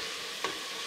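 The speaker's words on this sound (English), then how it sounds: "just gently fry off the onion and celery" Onion and celery frying gently in a pan for Georgian kharcho soup, a steady soft sizzle with one brief stir or scrape near the middle.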